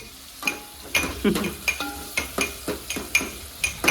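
Onion browns in oil while a ladle clinks and scrapes against the pot in a steady rhythm of sharp strokes over a soft sizzle, close by and without speech.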